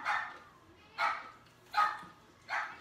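A dog barks four times, nearby but fairly soft, in short muffled woofs spaced roughly evenly about a second apart, with faint room noise in the gaps.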